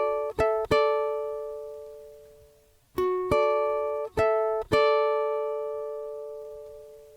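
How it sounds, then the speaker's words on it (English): Fingerpicked ukulele passage from a song, played close and clean: two quick plucked notes, a long ringing decay, then a second phrase of four picked notes left to sustain and fade, with no talking. "So it sounds like."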